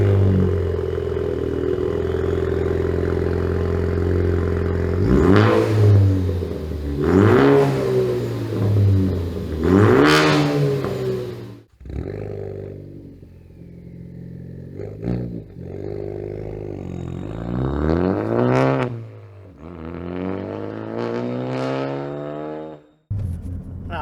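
Ford Focus ST (2013-2018) fitted with an Accelatec 3-inch stainless steel track cat-back exhaust with the muffler and resonator deleted, revving loudly in several rising, roaring bursts over a steady idle rumble, close by and with no talking.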